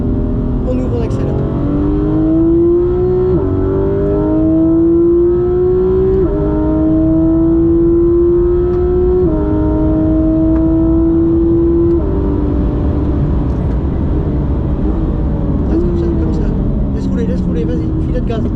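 A Porsche accelerates hard on a race track, its engine climbing in pitch through several gears in repeated rising sweeps, loud and close, with a voice underneath.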